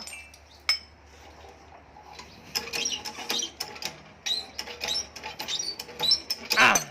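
A flat plate tool presses a camshaft bearing out of a Honda Sonic motorcycle engine. Sharp metallic clicks and cracks come in irregular bursts, growing louder and denser toward the end.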